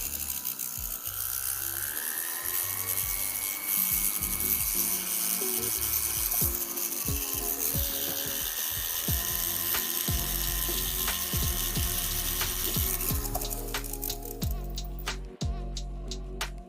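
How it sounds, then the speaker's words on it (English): A rotary tool buzzes steadily against a piece of jewelry, pre-polishing it to take out scratches, with a continuous high whine that shifts pitch slightly and ends in a few sharper clicks and taps near the close. "it's a pre-polish basically. So I'm just removing scratches"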